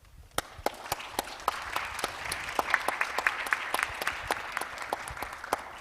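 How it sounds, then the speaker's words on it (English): Audience at an international judicial conference welcoming a professor, starting with a few distinct claps that quickly build into steady, moderate applause from a seated room. "Let's warmly welcome Professor Mary with a big round of applause"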